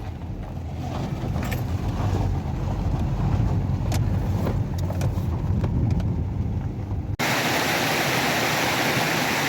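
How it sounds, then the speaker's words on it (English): Loud, steady rush of a stream in New Zealand's North Island flowing close by, a dense continuous roar with no voices, briefly cut and resuming as a constant wash of noise. "So I'm back in another stream here. As you can probably hear, it's very loud."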